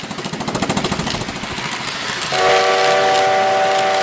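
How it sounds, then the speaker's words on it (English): An RO-scale model steam train blows a steady, sustained whistle as it pulls Pennsylvania coaches, starting partway through over the rapid, rhythmic clatter of wheels on track. "As you can hear the whistle behind this as well"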